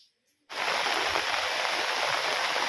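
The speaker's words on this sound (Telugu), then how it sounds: "ఇదే రకంతో భారీ వర్షం అనేది పడుతూ ఉంటుంది" Heavy rain comes down in a village, starting suddenly after a quiet moment and then keeping up as a dense, steady, close roar of falling water.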